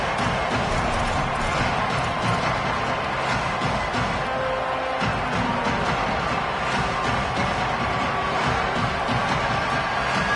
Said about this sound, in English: Man, this crowd really affecting the football game.